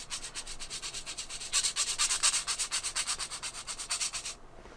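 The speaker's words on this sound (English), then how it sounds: "let me sharpen that" A Staedtler or Koh-I-Noor watercolor pencil being sharpened: a steady run of quick, rhythmic scraping strokes, close and fairly soft, ending abruptly.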